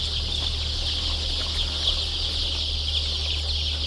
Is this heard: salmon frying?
no